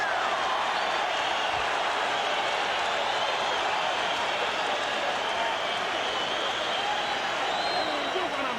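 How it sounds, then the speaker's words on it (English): A boxing arena crowd rises to its feet at the close of round 10, a dense, continuous roar of cheering and applause that stays loud and steady throughout, with a commentator's voice under it. "Round 10 comes to a close and the crowd rises"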